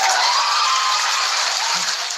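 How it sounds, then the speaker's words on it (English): A cheering crowd sound effect played during a hair braiding tutorial livestream, a dense, steady roar of cheers and applause lasting throughout at even loudness. "That sound is cheers though."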